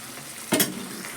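Okra pieces frying in a pan for ladies finger fry: a continuous soft sizzle with one brief stir or scrape near the middle, close and without talk.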